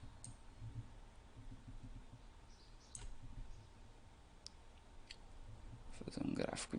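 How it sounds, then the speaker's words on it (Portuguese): A computer mouse is double-clicked, and a few faint, sharp clicks stand out against a low background hiss. "Vou clicar duas vezes aqui."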